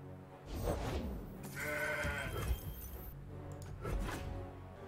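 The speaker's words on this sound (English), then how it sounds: "It's a perfect mountain goat." A mountain goat in the Legends of Runeterra card game gives a few drawn-out bleats, layered with shattering and whooshing game effects.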